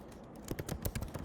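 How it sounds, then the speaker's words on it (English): Typing on a computer keyboard, a quick run of light, irregular key clicks that grows denser partway through, close and fairly quiet with no talking. "Here I will type same question"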